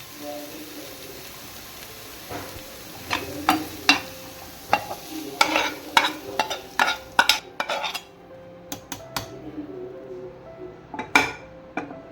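Chopped onion stirred in a metal pan while cooking aviyal, with irregular scraping and clinking spatula strokes over a low, steady sizzle, close and moderately loud.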